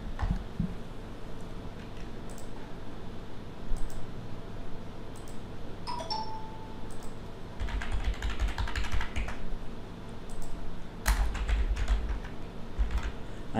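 Computer keyboard typing in bursts during online registration-form entry, quick clustered key clicks with pauses between, moderately close over a faint room hum, no talking.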